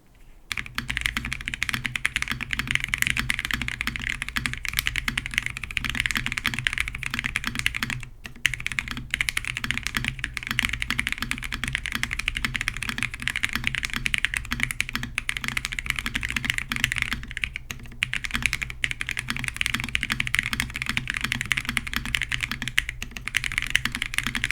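Continuous close typing on a mechanical keyboard fitted with Tecsee tactile switches, a dense, even patter of keystrokes with a few brief pauses and no talk.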